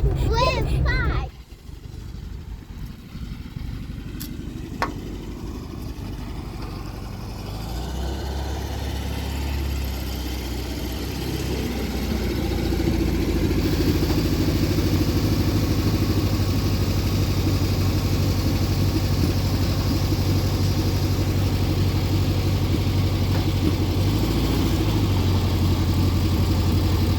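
Air-cooled VW Bug engine running steadily with a low, sustained drone and rough mechanical noise as its gearbox grinds during shifting, loud and close, with a voice briefly heard near the start.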